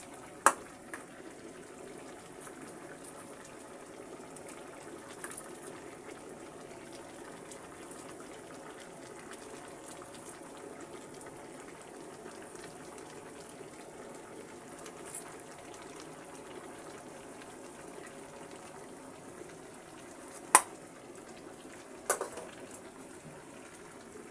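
Fried koi fish frying in a pan with vegetables such as beans, cauliflower, potato and tomato, a soft steady bubbling sizzle with a few sharp clinks and knocks, faint and continuous, no voices.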